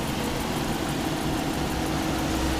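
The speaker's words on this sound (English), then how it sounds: "because this is a hybrid, the engine will actually stay running when the hood is open." A hybrid vehicle's engine idles with the hood open, giving a steady, even mechanical hum and rumble with no talking, close and continuous throughout.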